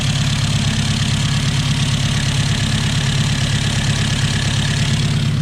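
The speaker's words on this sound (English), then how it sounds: "Idling at a 1100 RPM because we haven't drove it yet" A 1969 Opel GT engine idles at about 1100 RPM, a loud, close, steady drone with an even low throb and no voices.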